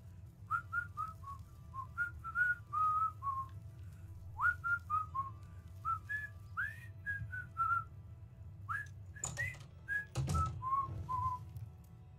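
A man whistles a loose, wandering tune of short chirping notes and slides, close and fairly clear over a low steady hum of room noise, with a brief rustling burst near the end.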